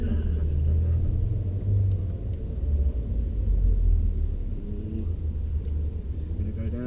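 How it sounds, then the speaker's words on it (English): At Santa Pod drag strip, a car doing a burnout sends out a heavy, sustained rumbling roar that swells and eases, heard from a distance with voices faintly in the mix. "Yeah, he's doing a burnout."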